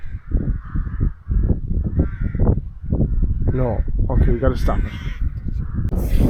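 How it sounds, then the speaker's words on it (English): Crows caw repeatedly in the background while someone talks over them close to the microphone. "You can hear the crows in the background behind me."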